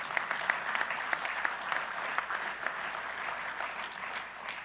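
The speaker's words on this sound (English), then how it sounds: "You guys can clap for him." An audience at a Ball State press conference claps steadily for several seconds, a moderately distant, even patter of applause with no talk over it.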